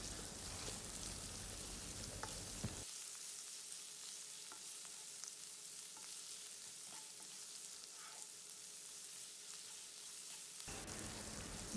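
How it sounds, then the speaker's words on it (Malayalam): Onion, green chili and curry leaves sauté with salt in a pan for a Kerala tea-time green peas snack, giving a steady close sizzle with scattered stirring scrapes, a louder burst of frying at the start and end, and no talking. "നന്നായിട്ട് ഇതേപോലെ മിക്സ് ചെയ്തെടുത്ത് വഴറ്റിയെടുക്കാം."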